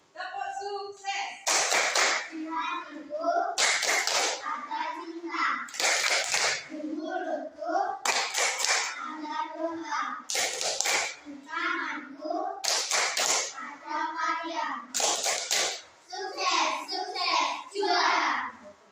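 A class of fourth-grade children performs a rhythmic 'tepuk sukses' clapping chant at an Indonesian school. Bursts of sharp, unison hand claps alternate with shouted chanted words in a repeating pattern, and the sound is loud and close throughout.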